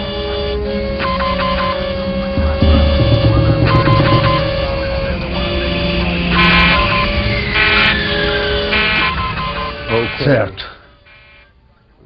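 Cockpit warning alarms buzz and chime repeatedly in a dramatized airliner flight deck during a fuel-exhaustion emergency on Air Canada Flight 143, sounding loud over engine drone while crew members talk.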